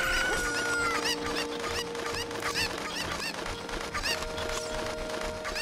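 Fowl calls, chicken-like clucks and honking cries, come from a Cucco in The Legend of Zelda: Ocarina of Time, repeating loudly and close over a busy backdrop of game music and steady tones.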